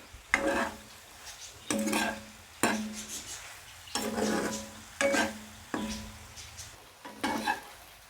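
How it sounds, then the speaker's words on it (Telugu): Potatoes and meal maker chunks frying in a pan: a soft sizzle under regular stirring, about seven scraping strokes with metal clinks at a slow, even rhythm, close and clear, no speech. "ఇలా ఫ్రై చేసుకోవాలి"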